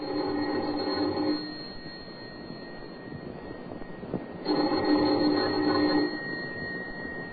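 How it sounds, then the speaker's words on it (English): A doorbell rings twice, each long, buzzing ring lasting over a second, with a quiet hum in between. "Let's begin this tale with the ringing of a doorbell."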